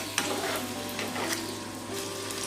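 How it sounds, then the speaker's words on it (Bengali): Aloo paratha frying in oil in a pan until crisp, giving a close, steady sizzle with a constant low hum beneath it and a few soft pressing sounds. "এবারে আমি ব্রাউনি করে ভেজে নেব"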